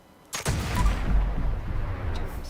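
A single loud Berserker explosive black powder rifle shot in Fallout 76, a sharp crack followed by a booming explosive rumble that rolls on and slowly fades, with no talk.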